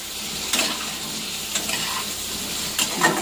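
A paste of green chili, onion and cumin fries in a pan tempered with cumin, giving a loud, steady sizzle close by, broken by a few brief scraping stirs.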